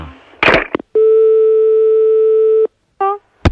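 A telephone line gives a steady busy tone, one long unbroken beep held for nearly two seconds with short tones around it, loud and close, with brief clatter of the handset at the start.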